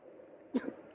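A single short, faint sneeze outdoors on a chilly day near Queensferry, a quick burst against quiet background noise.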